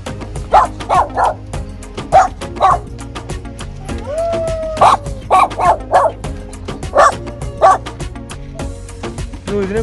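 Three small Shih Tzu dogs at a pet farm yip and bark in short, close bursts, with a few whimpers between the repeated barks.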